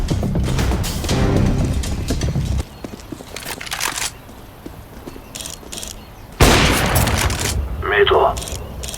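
Gunfire and grenade blasts in a mobile Counter-Strike style shooter on the Inferno map: loud, dense bursts of shots and booms come in two heavy waves with a quieter stretch between them, along with footsteps and a brief radio-style voice.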